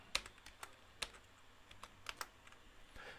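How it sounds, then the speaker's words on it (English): Someone types on a computer keyboard, making a handful of sharp, irregularly spaced key clicks, quiet and close in an otherwise still room. "I'm just gonna type it."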